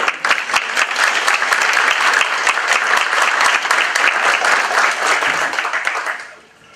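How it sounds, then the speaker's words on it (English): An audience at a foster care panel discussion forum claps in sustained, dense applause that holds steady for several seconds before tapering off at the end. "Can I get a round of applause for"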